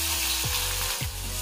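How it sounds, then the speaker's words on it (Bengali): A large chopped onion sizzles in hot oil with a dried red chilli for a fish roe chorchori, a steady close hiss broken by two brief scraping stirs. "পেঁয়াজ তেলে একটু ভেজে নিয়েছি।"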